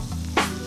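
Fish frying in a pan, a steady sizzle that flares loudly partway through as the fish is flipped, then settles back to a constant hiss.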